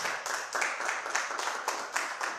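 Moderate applause at a church service, scattered clapping, a steady patter of many hands at some distance.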